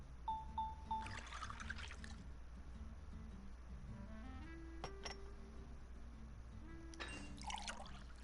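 Water poured into a mixed drink in the game Genshin Impact comes as two short, splashy pours, one early and one near the end, over soft game music chimes with no talking.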